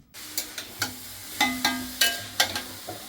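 Grated carrots for gajar ka halwa frying in a kadai, a spoon scraping and stirring in repeated sharp clinks and scrapes about every half second over a soft sizzle.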